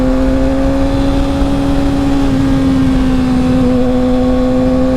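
Yamaha R6 sport motorcycle fitted with a slip-on exhaust, its engine holding a loud, steady drone at constant revs throughout, close and continuous with no speech.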